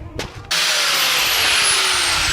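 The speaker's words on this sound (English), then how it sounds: "Now let's see how this looks when I grind it down." A power grinder starts up and grinds down a weld, a loud, harsh continuous whine with its pitch slowly falling as the disc bites into the metal, after a short quieter clatter at the start.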